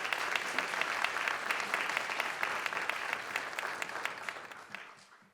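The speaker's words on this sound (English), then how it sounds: "Could we give them another round of applause?" Audience at a town awards ceremony applauding, steady dense clapping throughout that fades out at the end.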